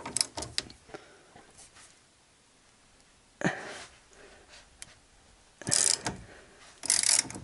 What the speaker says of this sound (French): j'ai toujours cette petite longue clé de 12 et je dévisse en fonction